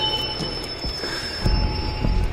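A train runs along the rails with a steady rumble, faint wheel squeal and a few clanks and thumps from the railcars, moderately loud with no speech.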